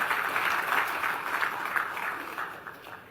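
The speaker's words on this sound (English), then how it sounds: "ArcGate sure deserves a big round of applause from all of us here" Audience applause at a D&B SME awards ceremony in Delhi: steady, dense clapping from a sizeable crowd, sustained and fairly even throughout, fading slightly toward the end.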